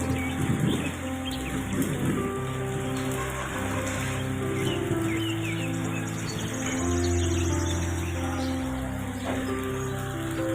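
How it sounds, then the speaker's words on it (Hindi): Heavy rain pours steadily onto surfaces around a home garden, a dense continuous hiss with patter of drops and faint insect and bird sounds mixed in. "बहुत तेज़ बारिश हो रही है"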